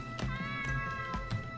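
A cat in the video game Akyrikon gives a couple of short meows over a continuous game music background, brief and moderately loud.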